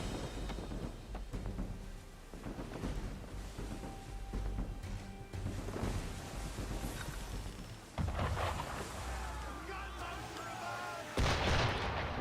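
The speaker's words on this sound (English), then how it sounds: "Why is he shooting at us?" Ship cannons boom repeatedly in Assassin's Creed III Remastered, heavy blasts rolling over one another above wind and sea noise during a naval chase, with a sharper burst near the end.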